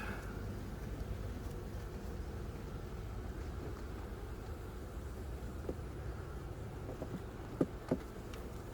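Honey bees hum in a low, steady drone throughout an open hive inspection, close and constant, with a couple of faint clicks toward the end and no talking.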